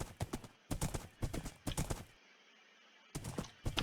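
A Minecraft horse makes repeated short whinnies and hoof clip-clops in bursts separated by brief silent gaps, close and fairly quiet.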